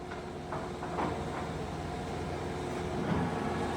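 An American engine lathe with a taper turning attachment runs at its lowest speed of 33 RPM, giving a steady low mechanical hum and drone with faint rhythmic clatter throughout.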